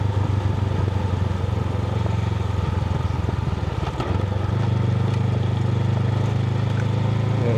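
A fully loaded Honda CB500X motorcycle riding on a loose gravel road, its engine droning steadily and loud with a brief dip midway, tyres crunching and clattering underneath.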